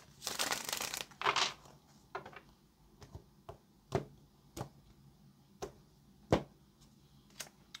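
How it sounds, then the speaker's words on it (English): Tarot cards being shuffled close up, two rustling riffle bursts at the start followed by a string of soft taps and card knocks spaced a second or so apart, quiet and without talk. "Let's get our last shuffle here and let's see what's going on."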